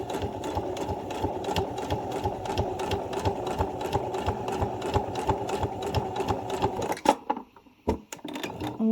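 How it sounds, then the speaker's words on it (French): A sewing machine stitches a cushion cover seam, its steady rapid needle beat running continuously for about seven seconds, then stopping abruptly and leaving a few faint clicks and handling noises. "On fait son point d'arrêt au départ et à la fin de notre couture."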